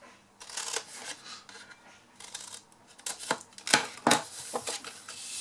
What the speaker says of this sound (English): we are going to cut away the bottom squares here completely. So we'll cut those away.